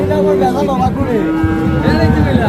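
A Friesian cross heifer calf moos loudly and close by at a village cattle market in Hazratpur, with a long drawn-out call and a second shorter one, while people talk in the background.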